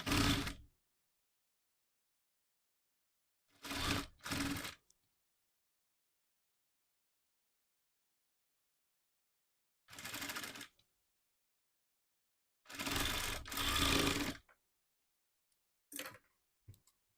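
A sewing machine stitches cloth for designer sleeves in short separate bursts, each a close, loud mechanical whir lasting about a second, with silence in between.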